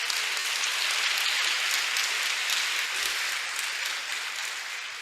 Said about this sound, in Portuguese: gostaria que a igreja aplaudisse